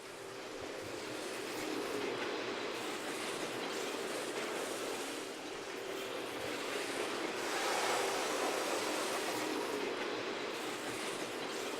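A train rumbling past in the StarCraft II campaign, a steady broad roar like wind or surf holding for the whole stretch, swelling slightly partway through, with no talking.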